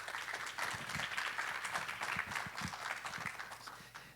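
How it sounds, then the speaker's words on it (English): Applause from an audience welcoming a speaker to a lecture, a steady wash of clapping at moderate distance, fairly faint and continuous throughout. "give him a warm applause"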